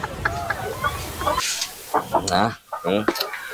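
A chicken clucks and squawks nearby in short, uneven bursts, mixed with some background chatter.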